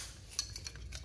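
Kitchen knives, including a Global knife, a fruit knife and a cake knife, along with scissors and other metal cutlery, are handled with a few faint, light clinks and taps over quiet room tone.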